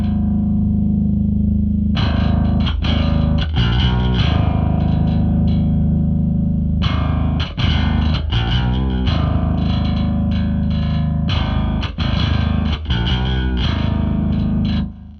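Heavily distorted bass guitar run through the Seismic Bass Suite plugin with its quake knob adding extra sub lows, playing loud, gritty riffs of chugging notes and short stops, close and alone.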